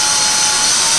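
A power drill bores pilot holes into a B&W Outdoor Cases backpack case, giving a steady, loud whirring drone with no break and no talk.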